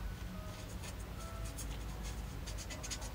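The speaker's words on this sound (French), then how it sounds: "quand je découpe le papier, c'est pas un papier top, mais bon, il est cartonné" Scissors or a blade cut through thin cardstock, producing a run of close scratchy rasping strokes with soft background noise.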